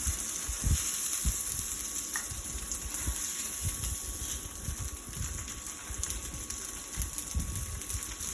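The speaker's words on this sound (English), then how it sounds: "These patties were, I believe they're already cooked. All I'm just doing is browning them." Pre-cooked breakfast patties browning in a hot pan give off a steady, soft sizzle and crackle throughout, with small pops and no talking.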